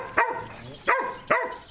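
A dog at an animal shelter for abandoned and mistreated dogs barks three times in a slow, even rhythm, fairly close and moderately loud, with quiet between barks.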